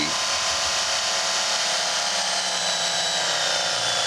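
Work Sharp electric knife sharpener running at a set speed, a loud, steady, dense whirring hum of the motor and belt that holds constant and close throughout.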